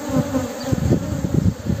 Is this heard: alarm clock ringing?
no